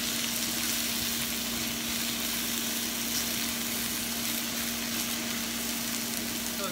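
Summer vegetables sautéing in a pan, a faint, even hiss of frying with a low steady hum beneath and no talking.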